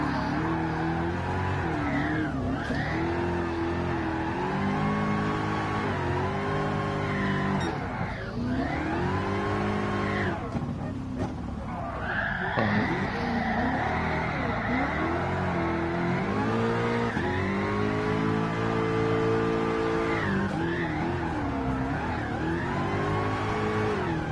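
A car engine in GT Sport revs hard through a drift at Tsukuba, its pitch repeatedly climbing and dropping with throttle and gear changes, with a brief tyre scrub between sustained loud close wails.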